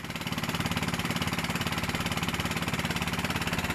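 A trawler boat's engine chugs with a steady, rapid, even thumping beat, loud and close, on a river trip toward Bichanakandi waterfall in Sylhet.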